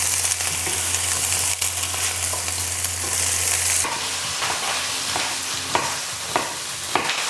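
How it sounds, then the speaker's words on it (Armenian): Eggplant and peppers fry in an oiled pan, a loud continuous sizzle that turns rougher partway through, with scattered utensil clacks from stirring. "Նորից կրկին շարունակում ենք տապակել։"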